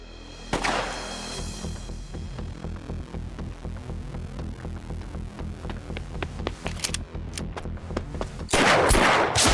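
Gunfire in a Yakuza Kiwami 3 cutscene: dense, rapid shots rattle steadily over a low musical score for most of the stretch, ending in a louder, bright burst near the close.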